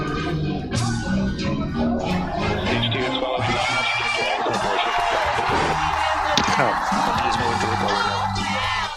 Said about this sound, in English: that part of the song, and the crowd cheering